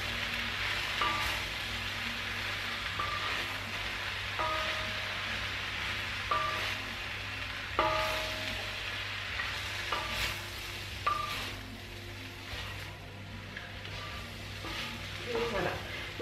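Mushrooms being stirred in a pan, with a steady broadband sizzle under intermittent scraping strokes of a utensil, close and moderately loud, no voices.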